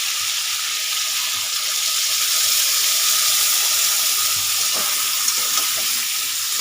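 Spice paste frying in a pan for a Bengali pumpkin curry, a continuous close sizzle that holds steady, with a few soft stirring clicks and no talking.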